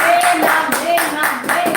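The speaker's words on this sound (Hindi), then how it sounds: "मस्त ताली बजाओ" A congregation at a church prayer meeting claps in rhythmic bursts, roughly three or four sharp groups of claps, with singing or voiced tones running underneath.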